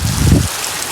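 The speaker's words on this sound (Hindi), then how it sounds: "इधर पूरा मौसम ख़राब है अभी, मतलब पूरा बारिश चल रहा है अभी" Heavy rain falls in a village near Fatehpur, on the Dharamjaigarh side, during monsoon weather. It makes a dense, continuous hiss, with a deeper low rush in the first half that then fades out.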